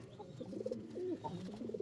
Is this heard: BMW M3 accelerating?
no